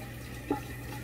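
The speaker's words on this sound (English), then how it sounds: "first I wet my face with warm water" Warm water from a bathroom tap, used for washing the face, gives a brief close splash over a steady running hiss.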